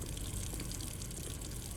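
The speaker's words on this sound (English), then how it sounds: "At least the faucet is on." Faucet left running in the game Blue Prince, a steady, even hiss of flowing water holding at a constant level throughout the short stretch, with no voices over it.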